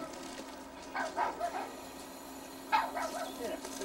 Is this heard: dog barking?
yes